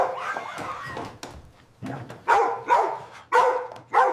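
A dog barks several times in quick bursts, moderately loud, with some softer rumbling noise between the barks.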